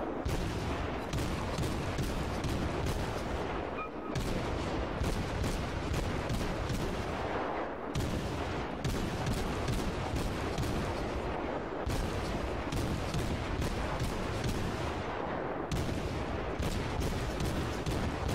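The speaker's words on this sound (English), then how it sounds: "We're just spamming so many shells on target." German cruiser's guns fire salvo after salvo in World of Warships, loud booming shots in dense, steady bursts with brief gaps, continuous naval gunfire throughout.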